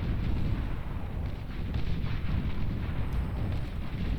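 Saboteur-style missile battery firing in the Beyond All Reason strategy game, dense rumbling volleys and blasts rolling together continuously.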